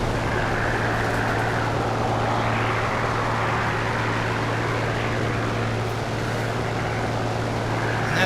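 Steady drone of a Bristol Blenheim aircraft engine in a flight combat game, a constant loud propeller hum that holds without a break from start to finish.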